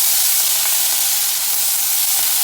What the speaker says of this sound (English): And then you're just gonna let this saute.